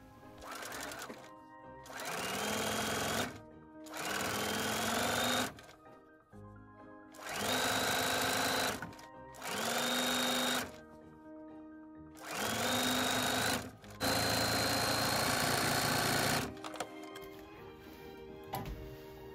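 A sewing machine stitches quilt strips in six separate bursts, each a few seconds long, with the motor whirring up to speed and stopping between runs, close and clear with no talking.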